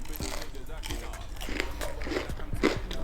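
Crispy oven-baked breaded chicken goujons crunch as they are bitten and chewed in several crackly bites, close up, with a voice in the background.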